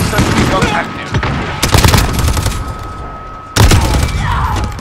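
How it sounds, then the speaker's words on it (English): Automatic sentry gun fire in Call of Duty Modern Warfare, loud dense bursts of rapid gunshots and explosive thumps in a busy multiplayer battle, with a brief break before the firing resumes. "Enemy sentry gun"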